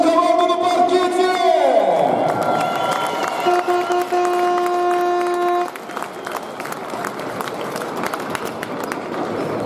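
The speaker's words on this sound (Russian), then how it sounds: "давайте встречать бурными аплодисментами нашу команду на паркете!" Crowd in a basketball arena for a FIBA Europe Cup game applauds and cheers as the home team takes the court, a loud, sustained roar with tonal sweeps and horn-like notes from the sound system over it.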